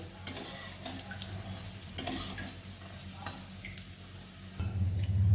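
Coconut fritters fry in a hot wok, giving a soft, steady sizzle broken by light stirring scrapes and taps, with a brief louder bubbling surge near the end; no one talks.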